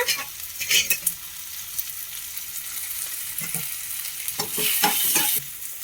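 Onion and tomato fry and sizzle in a pan while being stirred for a Kannada-style greens stir-fry, with a steady hiss, scraping stir strokes and a louder burst of sizzling near the end, no talking.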